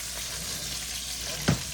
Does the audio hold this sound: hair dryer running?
no